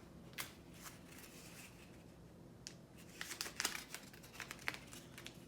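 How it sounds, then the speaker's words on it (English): Paper is handled and tape pulled and pressed while a paper Mobius strip is taped together, producing soft rustles and crinkles with a few sharper crackles near the end, close and quiet. "I got to tape it up here."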